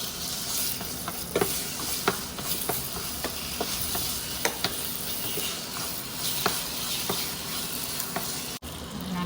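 Dates and aval halwa are stirred and roasted in a pan, giving a steady sizzle broken by repeated scraping taps of the spoon against the pan, fairly close.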